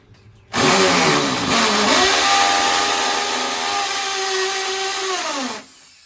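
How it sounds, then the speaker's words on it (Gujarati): An electric drill bores into a bathroom wall, starting abruptly with a loud whine that wavers and then settles into a steady grinding drone for about five seconds before cutting off. "હવે બાથરૂમમાં ડ્રીલ મારું છું કપડાં લટકાવવા માટે"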